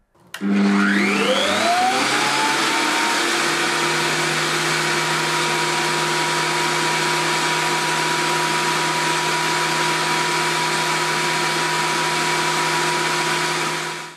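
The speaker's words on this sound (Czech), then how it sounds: "Jako poslední změříme hlučnost stroje IGM PS33 s žiletkovým spirálovým válcem." An IGM PS33 thickness planer with a spiral cutterhead spins up with a rising whine, then runs at a loud, steady roaring hum throughout, around 96 decibels.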